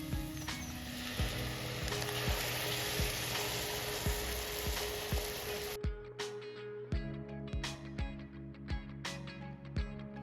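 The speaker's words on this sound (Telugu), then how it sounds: "ఇప్పుడు బాగా పండిన పావు కిలో టమాటా గుజ్జు వేసుకుందాం" Ripe tomato pulp going into a sizzling spicy mushroom curry masala, with dense frying hiss that drops away and is followed by a series of distinct clinks and spoon taps.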